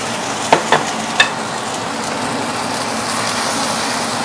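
Sweet potato noodles with Italian sausage being stirred in a pan as sauce goes over, a few sharp utensil scrapes early on against a steady broadband sizzle that carries on alone.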